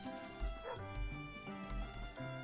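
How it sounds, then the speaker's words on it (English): A dog barks a few times in short yips and woofs over a steady tonal background, moderately near and clear, with no talking. "Yes, woof woof."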